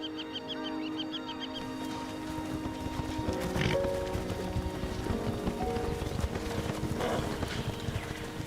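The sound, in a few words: wild horses moving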